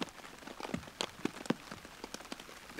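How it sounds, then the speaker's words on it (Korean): Heavy rain pours down at night on a mountain, drumming steadily on nearby surfaces around an open bivouac with no tent, with scattered louder drops over a constant hiss. "그래서 여러분 그냥 빗소리 한번 들어보세요."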